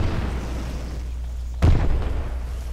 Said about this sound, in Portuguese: Médico, joga fumaça, cara. Duas granadas de fumaça, 75 e 105.